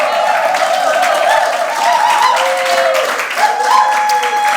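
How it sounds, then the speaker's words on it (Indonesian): Congregation applauding during a church service, a dense wash of clapping from a crowd mixed with sustained voices or music tones, loud and continuous throughout. "Mari kita beri tepuk tangan."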